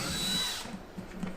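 A power drill with a 3/8-inch bit whines loudly while boring a hole, then winds down and stops after about half a second, leaving quiet handling noise.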